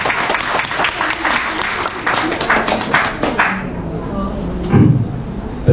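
Audience applause at a community bazaar gathering with an Indonesian ambassador, a steady patter of many hands for about three and a half seconds that thins out, followed by murmuring and a brief voice near the end.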